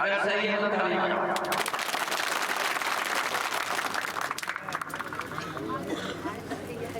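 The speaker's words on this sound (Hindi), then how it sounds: "अगर सही है तो ताली बजाओ।" A large crowd claps at an outdoor Lok Sabha election rally in Shivpuri, a dense, steady wash of applause lasting the whole stretch, with voices and shouts mixed into the noise.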